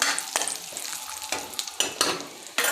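Whole spices hit hot oil for butter paneer masala, giving a loud crackling sizzle with sharp pops and bursts of spattering, close to the pan and free of talk.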